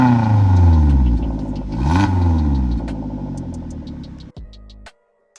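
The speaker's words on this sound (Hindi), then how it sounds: "अब यहां पर अगर मैंने वॉल्व्स ऑफ कर दिया तो you can get back to the original sound of the exhaust" Suzuki Jimny exhaust with the valves closed, a loud, close engine rev that rises and falls in pitch, then drops sharply near the end before a brief tail and silence.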